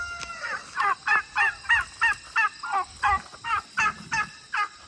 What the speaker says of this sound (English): Let's see the meat turkeys.